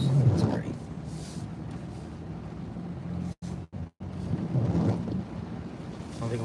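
Rain falling during a storm on a flooding road, a steady wash of noise with wind buffeting the microphone and a couple of brief dropouts, while people talk over it.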